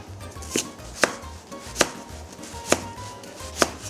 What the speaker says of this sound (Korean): 반으로 가른 뒤 깍둑 썰어 준비해 주세요